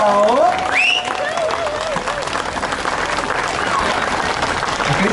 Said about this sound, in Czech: ti všichni se zaslouží velký, řekl bych, bouřlivý potlesk